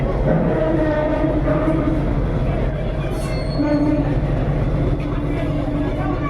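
The Ooty toy train on the Mettupalayam mountain line rumbles steadily nearby, a loud continuous roar of wheels and engine with faint squealing and rattling, no pauses throughout.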